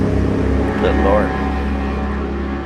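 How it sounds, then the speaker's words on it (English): Cars and motorcycles pass loudly along a road beside a wooded spot, making a heavy, sustained engine roar close by. A voice is heard briefly over the noise. "How loud is it to you guys when these cars come through and the motorcycles?"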